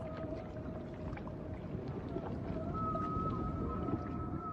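Humpback whale song carries through steady underwater noise, with long drawn-out tonal moans that slowly rise and hold, continuous and fairly loud throughout.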